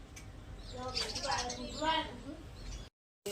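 Sparrows chirp in quick, bright bursts over rustling background noise, with a short silent gap near the end.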